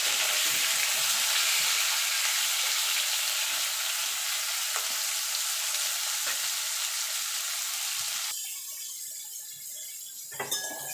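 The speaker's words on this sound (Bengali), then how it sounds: "এবার আলু পটলটা ভেজে নেব ভাজা ভাজা করে নেব একটু।" Potatoes and pointed gourd with whole cumin crackle and sizzle steadily in hot oil, a dense close frying hiss with occasional stirring scrapes, thinning out toward the end.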